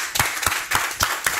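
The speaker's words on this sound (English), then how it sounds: "So clap again and again for Ms. Kabore Samirato for this bright presentation." A small audience claps after a presentation on fighting corruption in Africa, with a handful of sharp, fairly evenly spaced claps over about a second and a half, close and moderately loud.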